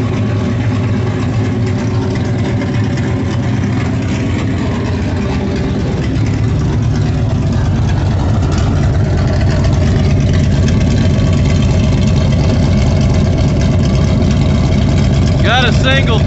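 A car with an uncorked single 3-inch exhaust idles high and loud, a steady rumbling drone close to the microphone, with a voice talking over it.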